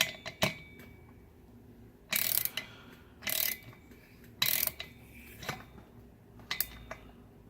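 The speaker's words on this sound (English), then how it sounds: "So just drop that back in there and start tightening." Wrench or ratchet clicks while tightening the drive sprocket nut on a small 66cc engine, coming in short separate bursts of sharp metallic ratcheting with quiet gaps between them.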